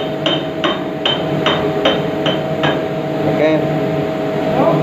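Metal hammer strikes ring out during removal of a vehicle gearbox in a workshop, about seven sharp, evenly spaced blows in the first three seconds, close and loud over a steady machinery hum, with voices talking in the background.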